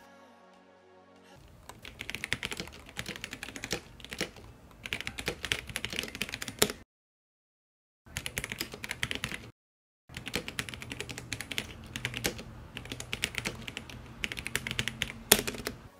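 Continuous rapid typing on a mechanical keyboard with linear red switches, muted and fairly soft, with two short pauses between bursts of keystrokes.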